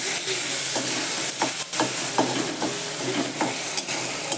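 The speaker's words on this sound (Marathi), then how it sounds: "तेल कांद्यावर डाळ चांगली परतून घ्यायची" Lentils and onion sautéing in hot oil in a pan, with a loud steady sizzle and hiss and several sharp scraping strokes of a spoon stirring them, close by.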